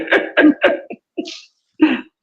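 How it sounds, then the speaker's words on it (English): A series of harsh throat bursts, three close together, then a couple of smaller ones and one more after a pause, like coughing or throat clearing up close. "Don't make me do that. I'm coughing."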